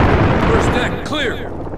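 A grenade bursts in Call of Duty: Modern Warfare, a loud rumbling blast heard close up with debris noise after it. Voices talk over the explosion.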